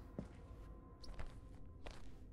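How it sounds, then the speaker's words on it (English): Faint, soft footsteps on plastic sheeting in the horror game Visage, three or four light crinkling steps against a low, murky ambient background. "Oh no, it's our footsteps on the plastic."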